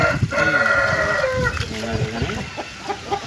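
A fighting gamecock being trained for Sankranti bouts clucks and squawks in short agitated bursts close by, while people talk around it.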